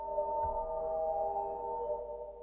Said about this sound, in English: now our sample is reversed and reverberated